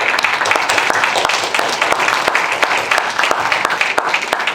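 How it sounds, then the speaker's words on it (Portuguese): Indoor audience applause at a lecture event on revolutionary ideas in Brazil, a loud, dense burst of many hands clapping that holds steady throughout. "eu queria pedir uma salva de palmas para a Fabi"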